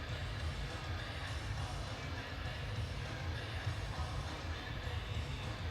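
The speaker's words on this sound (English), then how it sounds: "Crowd is starting to pick up a little bit of momentum again" A crowd at an arena football championship game, the United Bowl between the Sioux Falls Storm and Arizona Rattlers, fills the space with a continuous dense roar of distant voices, steady and sustained without distinct individual words.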